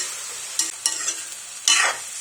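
A spoon stirs red gram and raw banana stir fry in a pan, giving a few sharp scraping strokes over a faint sizzle, with a longer scrape near the end.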